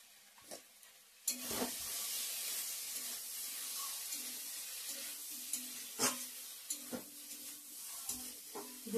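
Ground chili, coriander and cumin fry in a pan at home, giving a steady close sizzle with intermittent stirring scrapes and a few sharper clatters throughout.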